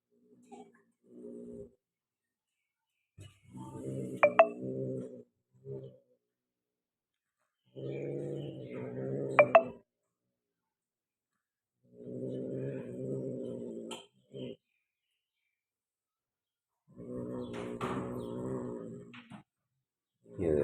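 Persian cats, a punch-faced female and a peke-faced partner, growl and caterwaul in repeated bursts of drawn-out moaning yowls, separated by quiet pauses, with occasional sharp higher cries.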